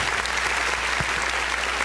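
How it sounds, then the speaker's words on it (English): Steady audience applause fills the room, dense and even throughout, with a faint voice or two underneath. "Give him a round of applause."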